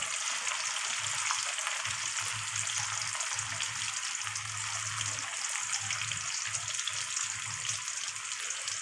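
Hyderabad-style chicken fries in a pan over high flame with a constant bright sizzle of hot oil, steady and close, with a low bubbling underneath and no talk.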